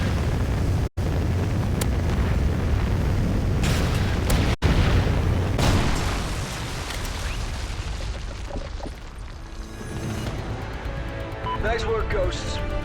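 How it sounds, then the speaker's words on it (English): Loud rumbling explosions from an incoming Trinity rocket strike in a first-person shooter, a dense booming roar through the first half that thins into lingering rumble and debris, with game radio voices talking over it. "Friendly Trinity rocket inbound."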